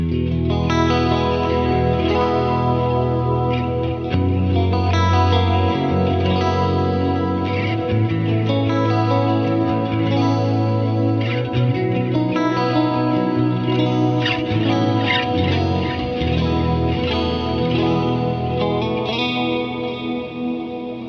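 Electric guitar played through a Kemper amp profile of a Herbert Mark III clean channel, lush and chorused with sustained chords and picked notes, continuous and full, ringing alone without any voice.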